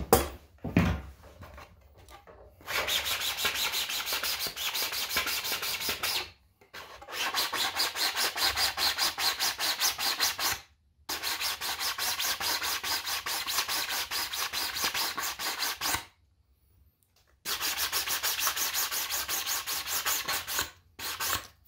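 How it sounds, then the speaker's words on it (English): Sanding a 3D printed plastic part for a Rogue One Darth Vader costume: long steady bursts of rasping, rubbing strokes, close and loud, broken by several brief pauses, with no talking. "As soon as I sand a little tiny bit off of this side."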